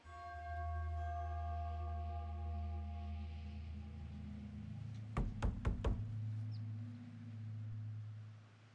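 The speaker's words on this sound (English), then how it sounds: "So, um, do we just knock or..." Knocking on a door in the horror video game The Casting of Frank Stone: four quick, sharp raps near the middle, over a low droning ambient score.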